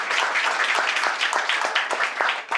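A crowd at a Eurovision fan café event in Copenhagen claps steadily, the bright dense applause rising and falling in waves before thinning toward the end.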